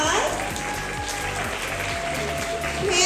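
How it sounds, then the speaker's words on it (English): A first-grade school assembly breaks into steady, dense clapping from a seated crowd of students that carries through the whole moment, with voices faintly mixed in. "let's give all of our Panthers a round of applause."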